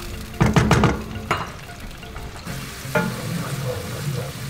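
Chopped onions land in hot oil in a pot, bursting into a loud sizzle with a few clanks of the spoon and pot, then settling into a softer, steady frying hiss.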